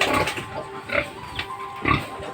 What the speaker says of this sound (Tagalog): At saka po may baboy din tayo dun. Tatlong fatiner po.